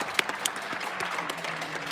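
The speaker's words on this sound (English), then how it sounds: "Even the one person I see on the street is also clapping." Nighttime applause rises from Paris balconies above empty streets, a continuous wash of many hands clapping at a distance with a few sharper claps and metallic knocks standing out near the start, no talking over it.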